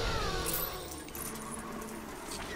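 Coins collected in Lego Star Wars, a quick shimmering metallic jingle of pickups, bright and fairly faint over a steady game background.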